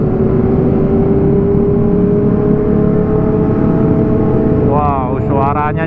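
A Honda CBR motorcycle engine drones loud and steady at a Sunday morning ride meet at Senayan City, then revs up sharply twice near the end, with a voice speaking over it.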